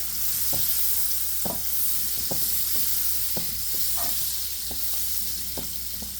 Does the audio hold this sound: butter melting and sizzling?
yes